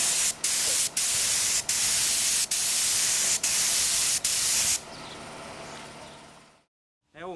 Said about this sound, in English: So advancing about an inch with each spray.